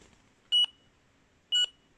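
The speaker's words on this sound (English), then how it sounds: "you see you have a long beep there and a long bar" Two short electronic beeps from a radio tracking receiver, evenly spaced about a second apart, sound clearly over a quiet background.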